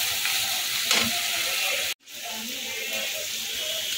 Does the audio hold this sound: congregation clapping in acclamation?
no